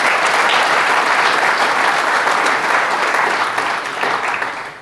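Dense audience applause, many hands clapping in a steady, full wash that holds for nearly five seconds before starting to fade at the end, with no voices heard.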